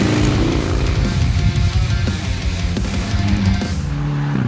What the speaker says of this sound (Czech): Tak to není tohle auto, to je tento traktor Zetor 7711. Ale na volnoběh je to hodně podobný.